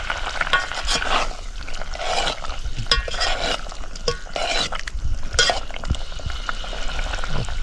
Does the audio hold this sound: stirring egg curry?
yes